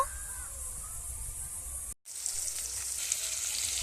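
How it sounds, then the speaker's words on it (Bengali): Pieces of snakehead fish frying in oil give a steady, close hiss and sizzle, broken by a brief cut to silence before the frying picks up again slightly brighter. "ছোট ছোট করে পিস কেটে নেব আমি মাছগুলোকে ভেজে নেব"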